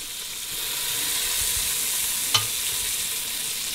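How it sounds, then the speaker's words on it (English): Bacon browning in its own grease, the first step of a homemade Brunswick stew, gives a steady close sizzle and crackle throughout with one brief louder pop midway. "when I'm finished browning and getting this grease out of this bacon"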